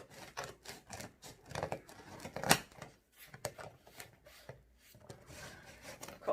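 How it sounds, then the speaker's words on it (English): Scissors slicing along packing tape on a parcel box, quiet close scratchy rasps and snips in irregular short bursts with pauses between them. "Cut along the tape."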